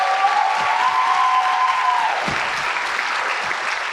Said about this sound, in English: One more big round of applause for the entire engagement